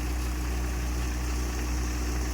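A Jangir multicrop thresher cutting maize, driven by a 241 model tractor, drones in a steady idling engine hum with a low rumble and constant vibration, loud and unchanging throughout.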